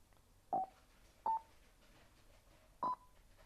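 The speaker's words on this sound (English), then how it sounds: "To pair 2 Freecoms, start by pressing the intercom button for 5 seconds." Three short electronic pairing tones from a Cardo Scala Rider Freecom 4 motorcycle intercom, spaced unevenly over a few seconds, clear and close against a quiet background with no talking.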